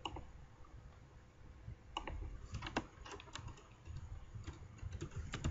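Code being typed on a computer keyboard, soft quick clusters of key clicks in irregular bursts with short pauses, close and fairly quiet.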